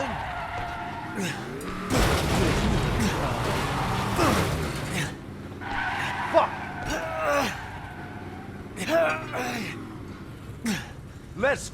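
In the Resident Evil 7 video game a car skids, with loud, long squealing tire screeches and engine roar, then several shorter skid bursts. Shouting voices come and go around the noise.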